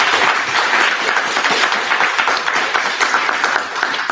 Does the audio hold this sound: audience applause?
yes